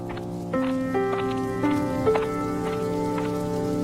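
Cartoon rain sound effect: a steady, fairly loud wash of falling rain throughout, with sustained musical tones layered on top and no voices.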